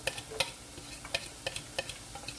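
Garlic frying in a pan for vegetable lumpia, a faint sizzle under light, irregular scrapes and taps of stirring, about a dozen soft clicks across a couple of seconds.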